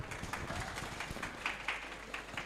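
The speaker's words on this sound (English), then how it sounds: "Please give applause once again for Mayra and Lutfian." Conference audience clapping for a presentation at an international school conference, a steady moderate patter of many hands that continues through the whole stretch, somewhat distant and roomy.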